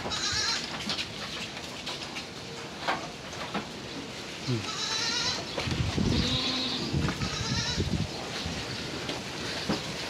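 Goats kept on a farm bleat several times at close range, one loud drawn-out call standing out among shorter bleats over a busy background of rustling and farmyard noise.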